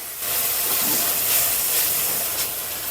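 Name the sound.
spices frying in a pan with salt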